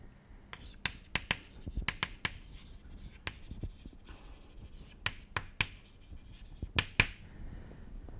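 Chalk or a marker taps and scratches across a board as mathematics is written out, a series of sharp irregular clicks over soft scraping strokes, close but faint in a quiet room.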